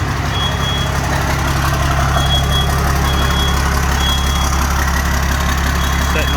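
A Dodge Ram 2500 12-valve diesel engine idles steadily while warming up, with a deep, constant low rumble, close and loud, with no talking.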